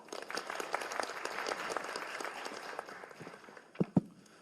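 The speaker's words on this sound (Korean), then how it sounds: "박수 부탁드립니다." An audience at a university student meeting gives a sustained round of applause that gradually thins toward the end, followed by a couple of sharp thuds.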